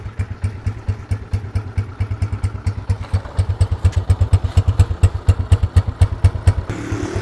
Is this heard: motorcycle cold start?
yes